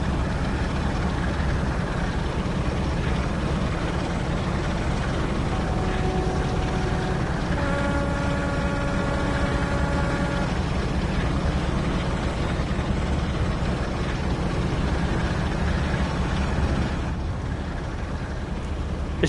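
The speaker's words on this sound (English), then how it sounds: "It's still pretty noisy in the engine." Inside a train cab in Train Sim World 2, running near Twyford: a loud, steady engine drone with a constant broadband roar. A humming tone joins it partway through, then drops away.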